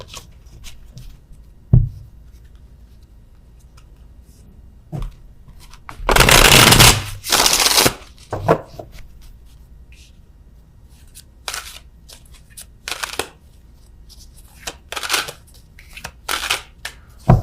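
Tarot cards being shuffled and handled during a reading, a few short riffles and one longer burst of shuffling, close and fairly loud amid quiet pauses.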